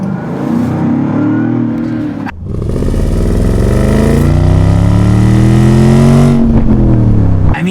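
A 2024 Land Rover Defender Carpathian Edition's supercharged engine revs hard close by, its exhaust note rising and falling in long sweeping pulls with a brief dip between revs.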